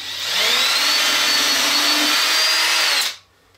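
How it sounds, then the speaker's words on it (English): A power drill bores a 1/4-inch dowel hole into wood, a loud steady whine that runs for about three seconds and then stops abruptly, close by with no talking. "I'm going to drill the second 1/4-inch hole for our dowels"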